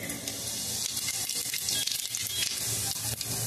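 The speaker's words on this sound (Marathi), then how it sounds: "त्यासाठी मी सर्वप्रथम यामध्ये जिरं टाकते" Steady, loud sizzling of cumin seeds hitting hot oil, a dense crackling hiss that runs continuously without pause.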